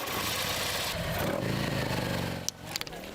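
Steady mid-pitched rumble of a motorcycle engine running nearby, continuous for most of the clip before dropping off, followed by a few brief clicks and taps.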